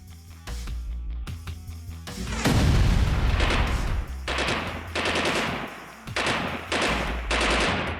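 An FV103 Spartan armoured vehicle lays down machine gun covering fire in a frontline trench assault in Ukraine: sharp, rapid bursts and heavy booms, loud and close, in several separate volleys.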